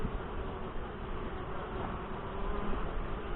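Saskatraz honey bees hum in a dense, steady drone at an open hive in northwest Wisconsin, the buzzing close and continuous without any talk.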